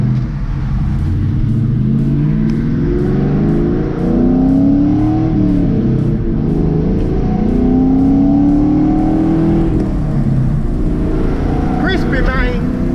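A 1998-2004 Ford Mustang GT V8 revs hard through first gear, its loud engine note climbing and dropping in repeated pulls, with a brief voice near the end.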